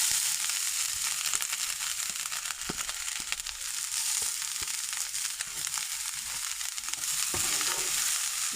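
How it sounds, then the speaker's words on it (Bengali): Grated carrot frying in ghee with garam masala for carrot halwa, a steady, close sizzle with crackling and occasional scraping stirs running throughout, no voices. "এখন এই যে আমরা গাজরটা যেই করে রেখেছি এটা দিয়ে দিব ভাজা করে দেব।"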